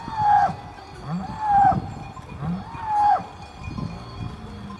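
Cows and sheep with cowbells in the Swiss countryside, several clear tonal bell clanks repeating at roughly regular intervals over low animal sounds and open-air background.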